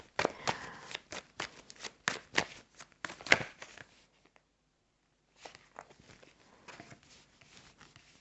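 Tarot cards are shuffled and riffled in quick, soft flurries, then a silent pause before more quieter card handling.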